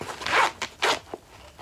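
A zipper on a front pouch of a small bag is drawn in several short, quick rasping pulls, close and clear, with brief pauses between strokes.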